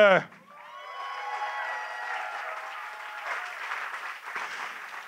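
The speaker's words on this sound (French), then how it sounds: "Applaudissez très fort" An audience at a closing ceremony for a blue circuit event applauds in a steady, moderate wash after a brief voice at the start, the clapping sustained and fairly distant.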